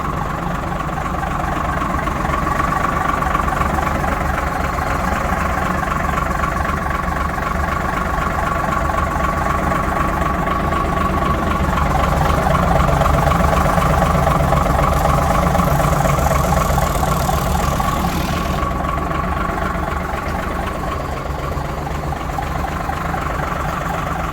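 A vintage Ford truck with a Gardner 270 diesel engine idles steadily and close by at a vintage vehicle event, a constant low, throbbing rumble with a faint mechanical whine, unchanging throughout.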